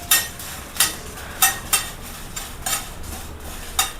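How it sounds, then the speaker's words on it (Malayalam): Food is lightly fried in a pan while a spatula scrapes and stirs it, giving six or seven sharp, rhythmic scraping strokes over a low background sizzle, close and fairly loud. "ഒന്ന് ചെറുതായിട്ടൊന്ന് വറുത്തെടുക്കണം."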